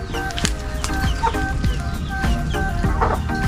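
Chickens on a small backyard farm cluck close by in short, repeated bursts, with an occasional wing flutter, set against a steady hum of farm background.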